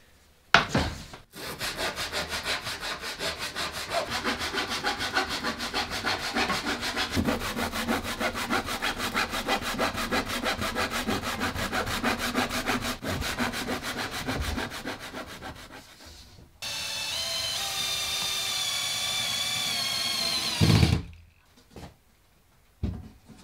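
A hand saw cuts wood for the layers of a reading nook build, its steady back-and-forth rasping strokes running close and loud for about fifteen seconds, followed by a brighter, higher-pitched stretch of cutting before it stops.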